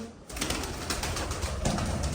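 Pigeons coo steadily against a dense, noisy background, a soft continuous murmur of birds close by.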